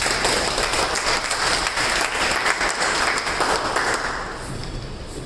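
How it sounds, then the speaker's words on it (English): A meeting audience applauds steadily and loudly after being asked for a round of applause, dense clapping filling the room and thinning slightly near the end. "Please give a round of applause."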